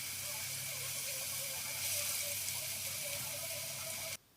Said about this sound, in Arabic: تبدأي بقى تحمري فيه كده في كمية الزيت كلها، ولازم تكوني النار